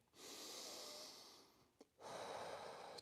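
Deep, slow breathing during a meditation at a Shotokan karate class: one long close inhale, a brief pause with a small sniff, then another strong breath, quiet and alone.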